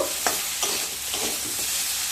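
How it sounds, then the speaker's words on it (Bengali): Onions stirred into frying bitter gourd and pumpkin in a pan, a steady sizzle with a few soft scraping strokes of the spatula, close and moderately loud, no voices. "দিয়ে দেব কেটে রাখা দুটো মিডিয়াম সাইজের পেঁয়াজ। দিয়ে আবারও মিশিয়ে নেব।"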